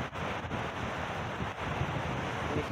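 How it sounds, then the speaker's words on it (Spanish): Rough, churning sea surf at Ponta da Lagoinha in Búzios, a steady broadband roar of crashing waves mixed with wind buffeting the microphone, loud and continuous throughout with no talk. "se ve el mar bastante enfurecido."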